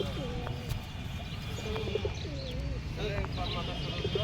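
Pigeons coo repeatedly at a busy outdoor pigeon market, with soft chirps and calls mixed into a steady background of crowd noise and distant voices.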